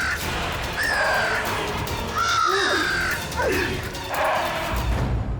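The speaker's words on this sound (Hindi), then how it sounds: "सुल्तान मेरा बहुत ही खास डोंग कौवा है, जो कि मुझसे बहुत प्यार करता है।" A crow caws several times in an uneven sequence of harsh, rising calls, close and loud against a noisy background.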